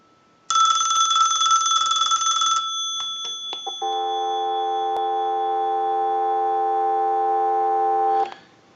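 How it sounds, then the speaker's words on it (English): A Western Electric Princess telephone ends a loud ring burst, a few clicks follow, and then a steady dial tone hums loud and close for about four seconds before cutting off. "we'll give you some dial tone."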